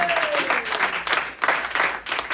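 A church congregation breaks into loud, sustained applause in acclamation, steady dense clapping near and full, with a brief sung or spoken tone sliding underneath at the start.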